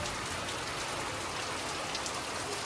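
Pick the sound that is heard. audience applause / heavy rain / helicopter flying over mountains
heavy rain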